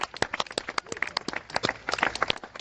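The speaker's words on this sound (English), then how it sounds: "Your applause, please." A small outdoor audience in Zurich claps after a drone lands: quick, uneven, close handclaps from a few people, lasting only a couple of seconds.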